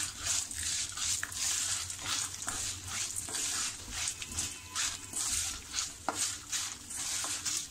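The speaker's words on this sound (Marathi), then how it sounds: "थोडीशी खसखस आणि व्यवस्थित आपल्याला हे भाजून घ्यायचं आहे" Poppy seeds dry-roasting in a pan on the stove for chicken Kolhapuri masala, giving a steady soft crackle and hiss with light scraping from stirring, close and continuous throughout.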